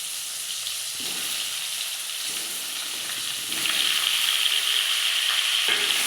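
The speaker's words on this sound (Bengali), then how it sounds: "পাঁচফোড়নটা একটু লাল লাল হয়ে গেলে দিয়ে দেব আমের টুকরোটা" Mango pieces fry with panch phoron spices, producing a loud, close, steady sizzle that grows brighter partway through, with occasional soft stirring bumps.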